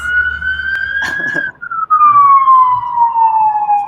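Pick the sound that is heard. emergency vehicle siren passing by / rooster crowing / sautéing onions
emergency vehicle siren passing by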